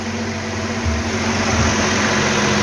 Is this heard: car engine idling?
yes